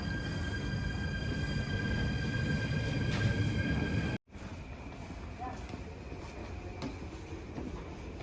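Steady low rumble and rattle of a train rolling along the rails near Utrecht, heard from the upper deck inside a carriage, with a brief dropout midway and faint voices beneath.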